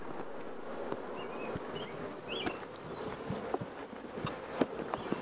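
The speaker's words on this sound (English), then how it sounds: "Now the bees will get more excited as I get into the bottom box." Honey bees buzz steadily around a hive's brood chamber in the bottom box, a close, dense droning hum, with occasional light knocks and clicks of handling.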